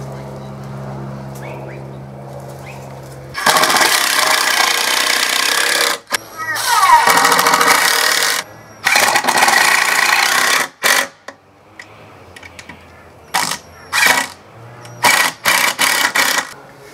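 Screws are driven into a wooden medieval-style spear rack, likely with a power driver, in loud whirring bursts of a second or several seconds, separated by quieter pauses and shorter spurts toward the end.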